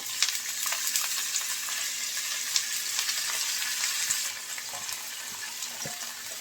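Pointed gourd slices tossed into a pan of lightly browned fried onion and garlic, giving a steady, close hiss of sizzling oil with faint stirring clinks throughout.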